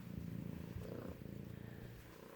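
Close, steady purring from a pair of kittens, a low vibrating rumble with a regular breathing pulse, a brief soft shift in tone midway, and no voices.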